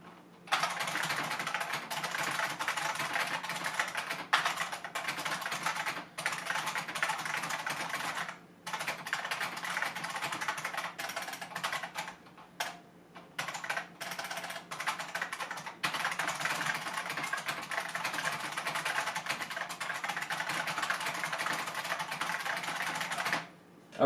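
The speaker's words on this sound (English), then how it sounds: "finished that typing test there" Steady, rapid typing on a Unicomp UltraClassic keyboard with continuous clicking keystrokes, close up, broken by a few brief pauses, with no voices.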